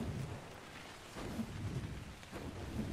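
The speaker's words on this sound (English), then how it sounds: "Is it rain? I think it's rain." Rain falls steadily in a thunderstorm in the video game ARK Scorched Earth, a constant wash of droplets over low rolling rumbles that swell and ease several times, with no voices.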